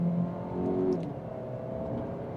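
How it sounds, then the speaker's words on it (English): A 2026 Audi Q3 S Line in second gear, dynamic mode, accelerates gently, its engine hum rising steadily and smoothly from inside the cabin at moderate volume. "We'll give it a slight acceleration."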